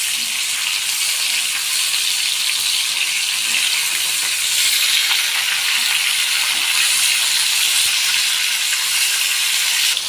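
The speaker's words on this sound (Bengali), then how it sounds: "আর এদিকে মাছ ভাজা হচ্ছে।" Fish fries in a pan with a loud, continuous sizzling hiss that holds steady and close for the whole stretch, without any voices.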